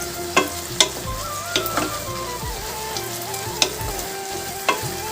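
Fish head curry with taro frying in a pan over a medium gas flame, a steady close sizzle broken by repeated sharp scrapes and clinks of a spatula stirring.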